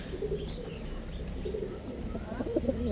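Pigeons in a loft give soft, faint coos and small chirps, scattered and close, over a low background hum.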